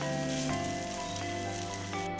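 Sauce frying in a small amount of oil over a low flame for traditional chicken serundeng, giving a steady, close crackling sizzle like light rain that runs throughout with no talking.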